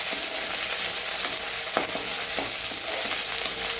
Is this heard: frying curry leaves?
yes